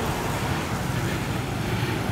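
Rush hour traffic jam on a street in Thailand, a dense, continuous wash of road noise and engine rumble with no distinct individual vehicles standing out.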